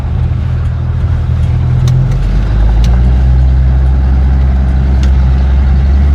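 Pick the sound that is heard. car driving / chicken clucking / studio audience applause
car driving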